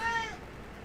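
A house cat gives one short, fairly close meow indoors, fading into quiet room tone within a second.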